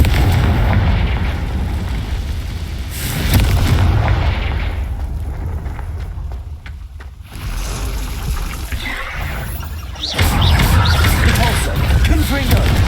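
Repeated Confringo fire-spell explosions in Hogwarts Legacy burst loudly in heavy clusters, with a quieter lull in the middle before another booming volley, and a voice in the background amid the combat.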